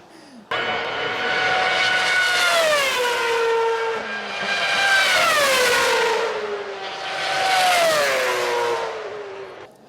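A voice imitates a Formula 1 car passing by, a rising-then-falling engine whine repeated three times in smooth sweeps, each pass swelling louder and dropping in pitch as it goes away, showing the Doppler effect.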